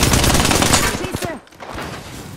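Rapid bursts of gunfire rattle out in an Apex Legends match: a loud, dense volley of shots, then a brief pause and quieter follow-up fire.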